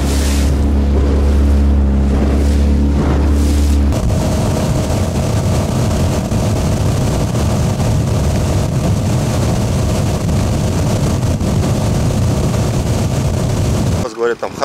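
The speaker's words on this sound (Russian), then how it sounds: "лодочка идет нормально" A small motorboat runs over waves during fishing near Astrakhan, its engine a loud steady drone joined by wind and water noise, with a sharp change in the engine tone partway through.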